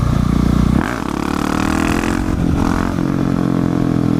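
A motorcycle engine revs loudly and close, rising and falling in pitch as the throttle opens and eases off several times, a continuous raspy roar with no talking.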